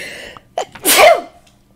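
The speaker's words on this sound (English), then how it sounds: "I'm sorry, my sneezes hurt." A single close, loud human sneeze: a couple of short sharp inhales, then one forceful burst that trails off quickly into quiet.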